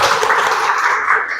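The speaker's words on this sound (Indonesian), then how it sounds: "kita beri tepuk tangan untuk kelompok" Classroom students applauding a presenting group after their talk, a short burst of dense clapping from many hands, close and fairly loud.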